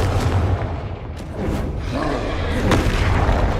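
Deep booming blasts and rumbling roars from the Confringo blasting spell in Hogwarts Legacy, several heavy explosions layered over a dense low rumble throughout, with a faint voice in the mix.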